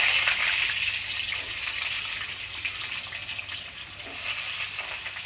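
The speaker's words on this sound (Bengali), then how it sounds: "আমার তেলটা খুব সুন্দর গরম হয়ে গেছে, এবার আমি আলুগুলো ছেড়ে দেবো।" Potatoes frying in hot mustard oil, with drumsticks about to join them, make a steady, loud, broadband hiss of bubbling oil that sizzles continuously through the whole stretch with no voices over it.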